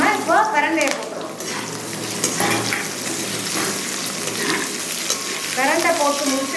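Pirandai (adamant creeper) sizzles and fries in a pan with ginger, garlic and a few small shallots for a chutney. A steady crackling hiss continues throughout, with stirring clinks, and a voice speaks briefly near the start and end.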